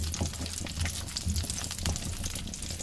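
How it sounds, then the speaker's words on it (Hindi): Dry fruits, including raisins, frying in a pan for suji halwa, a continuous crackling sizzle with small pops and stirring clatter throughout, no talking. "ड्राई फ्रूट जो है इस तरह तकरीबन 2 से 3 मिनट के लिए फ्राई कर लेना है"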